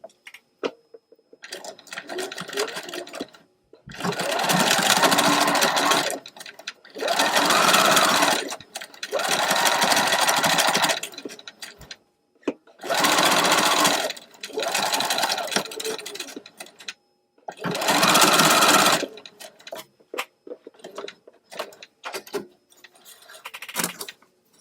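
A sewing machine runs two rows of gathering stitches, stitching in five loud bursts of a few seconds each, separated by short pauses with light handling noises.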